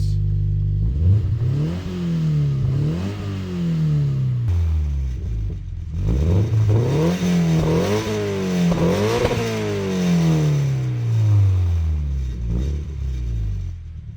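Scion FR-S four-cylinder idles close by, then blips through a series of quick revs, each rising and falling back, with several rapid throttle stabs in a row and no talking.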